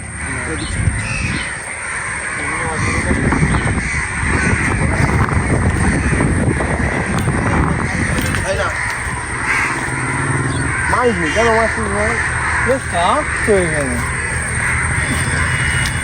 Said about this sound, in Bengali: তোমরা সবাই একটুখানি চুপ কর, জাস্ট পাখির ডাকের আওয়াজগুলো তোমরা শোনো।